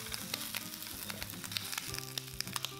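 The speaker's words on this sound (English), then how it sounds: "Return the pork feet. Pan fry until slightly browned," Pork trotters pan-fry in extra light olive oil until slightly browned, giving a steady close sizzle with scattered sharp pops and crackles and no voices.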